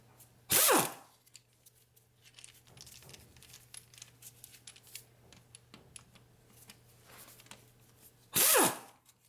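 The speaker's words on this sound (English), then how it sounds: "Now we're gonna undo these 4 bolts here so we can remove the crankshaft pulley" A ratcheting wrench loosens the crankshaft pulley bolts on a 1.9L VW Beetle, with two loud, short ratchet bursts near the start and end and quieter metallic clicks and handling noises between them.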